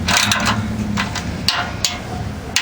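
Nut being tightened onto the skid shield of a 2003 Nissan Xterra, a few sharp metallic clicks and taps close by over a steady broadband hiss, with brief louder ratcheting bursts near the end.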